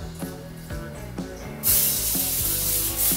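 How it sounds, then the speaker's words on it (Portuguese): Butter cooking spray is sprayed into a nonstick baking pan, a steady loud hiss lasting over a second and a half, following some soft handling noises and light background music. "Ó que legal, manteiga em spray, gente."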